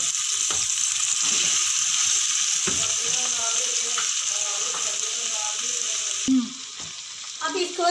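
Mutton pulao fries in a pan with a loud, continuous sizzle close by, and occasional stirring clatters near the end.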